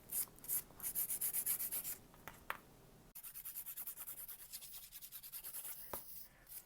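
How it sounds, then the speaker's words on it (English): A hand file works over gel nails in quick, close back-and-forth rasping strokes, two rhythmic bursts separated by a brief pause, soft and with no talk. "So I prefer a hand file when I'm doing gel nails."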